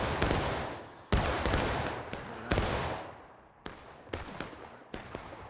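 Massed black-powder musket volleys crack out across a Civil War battlefield in War of Rights, firing irregularly in overlapping bursts, some close and sharp and others more distant, each shot trailing a short echo.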